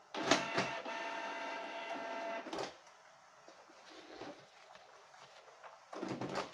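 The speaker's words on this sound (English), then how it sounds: "Then turn it on again to make sure that the printer has been successfully reset." A Canon Pixma G-series inkjet printer powers on after a reset, whirring and buzzing mechanically up close with clicking starts. A quieter, softer motor hum runs in the middle, and a final clatter of the mechanism follows.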